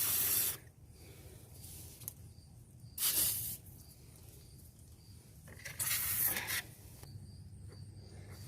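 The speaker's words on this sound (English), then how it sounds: "we're just going to spray some penetrating fluid on the bolts" An aerosol can sprays penetrating fluid onto the brake caliper bolts of a 2007 Chevrolet Cobalt in three short hissing bursts with quiet pauses between them, close by, with no voices.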